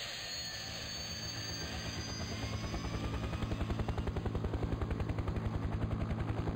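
A helicopter engine in Farming Simulator 2017 spools up from a rising whine into loud, evenly pulsing rotor thumps that grow steadily faster and heavier, with no voices.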